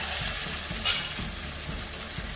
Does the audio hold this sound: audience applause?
no